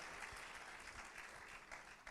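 A church congregation applauds steadily, with dense, continuous clapping heard at low volume throughout.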